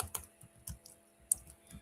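Fast typing on a computer keyboard by someone without long fingernails: brief clusters of crisp, close clicks separated by short pauses, with no talking.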